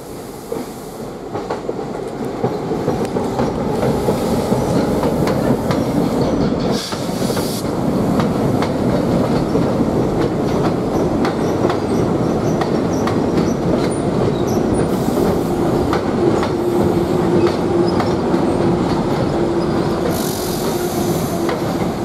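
A heritage train on the Tennessee Valley Railroad crosses a bridge with loud, steady rumble, rhythmic wheel clatter and occasional squeal, sustained close by throughout with no talk.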